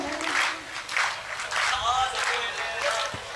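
An audience at a Hindi poetry recital for Mahavir Jayanti claps in rhythmic waves of bursts, moderately close, mixed with a voice.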